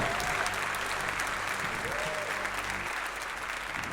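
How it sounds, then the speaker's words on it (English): Crowd clapping for the tournament admins at a DreamHack gaming event's grand finals, a continuous wash of applause mixed with a low electronic hum and faint tonal sounds from the arena, fading slightly toward the end. "So everybody clap your hands for the admins"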